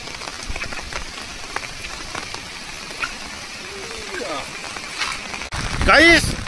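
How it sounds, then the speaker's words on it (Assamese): Wind and rain outdoors in a village, a steady broadband hiss of falling rain with gusty swells and a louder rushing burst near the end, where a brief voice-like sound also rises. "যিটো বতাহ আৰু বৰষুণ দি আছে"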